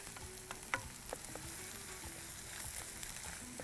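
Vegetables, okra among them, sautéing in a dry pan with no oil, giving a steady soft sizzle broken by a few sharp stirring clicks and scrapes throughout.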